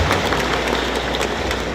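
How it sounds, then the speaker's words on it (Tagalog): Crowd applause fills an oath-taking ceremony for Benguet's provincial vice governor: dense, steady clapping held at an even level throughout, with no voices above it. "Palakpak kayo mo niya."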